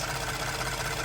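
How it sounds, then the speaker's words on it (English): A Ford F-150 engine idles with a fast, steady ticking from the valve train. The sound is continuous and even, close by, with no talking over it. "ticking noise from the valve train"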